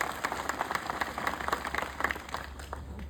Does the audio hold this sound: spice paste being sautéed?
no